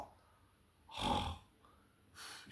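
One slow, rasping snore swells and fades, and a second begins at the end. The sound is soft, breathy and close, and no one talks.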